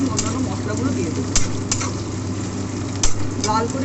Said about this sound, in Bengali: লাল করে একটু ভেজে দিতে হবে।